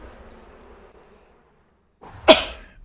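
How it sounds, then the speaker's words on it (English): A single loud, sharp sneeze bursts out close by after a quiet, faint lead-in, with a brief trailing breath afterward. "And now I feel a sneeze coming again."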